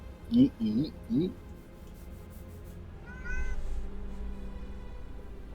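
A voice imitates a cat, giving three short, rising meows in quick succession close to the microphone, followed by a faint chirp and low room hum at a tabletop game session.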